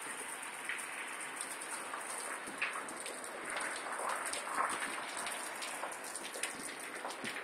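A summer rain shower falls steadily on surrounding surfaces, a dense, even patter of drops with occasional louder splats, with no voices.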